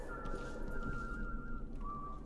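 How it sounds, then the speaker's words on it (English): A non-hostile NPC in a video game whistles a long wavering tone, then a shorter steady note, quiet over a low ambient drone. "It's the non-hostile, non-witch NPC that's whistling."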